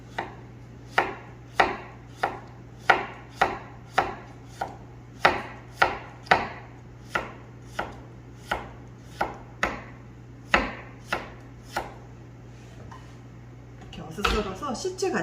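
Knife slicing cucumber into strips on a cutting board, a steady series of about twenty crisp, close chops with a low hum underneath and some rustling at the end.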